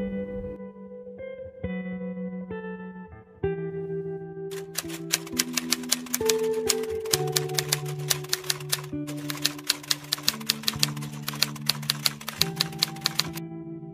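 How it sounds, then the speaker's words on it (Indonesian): A typewriter types out the Indonesian proclamation text in a rapid run of crisp clacks, paused briefly and then resumed, all over a steady musical backing. "Teks proklamasi Indonesia diketik oleh Sayuti Melik."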